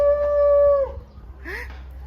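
Wolf howling at a zoo, one long steady howl that breaks off, followed by a short rising cry, at moderate distance over faint outdoor background.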